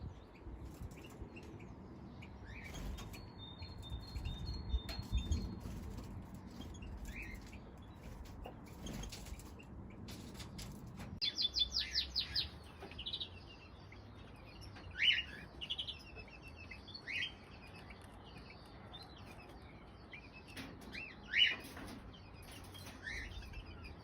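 Captive crossbills in an aviary give scattered short chirping calls, some in quick bursts, against a quiet background with occasional wing flutters and small knocks.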